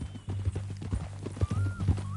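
A horse's hooves clip-clop at a walking pace near a ranch, an uneven series of sharp knocks close by, with a brief distant whinny-like tone partway through and no talk.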